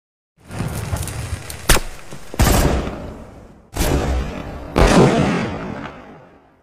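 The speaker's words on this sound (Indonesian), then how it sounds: "Setelah itu dilanjutkan dengan acara kembang api" Fireworks at a party scene in a film: four loud sharp bursts, each a crackling blast that trails off over a second or so, spaced a little more than a second apart.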